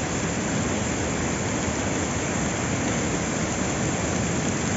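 Water of the Pandav waterfall at Panna tumbles over rocks from a height of about 50 to 60 feet, a steady broad roar that stays constant and fills the whole scene.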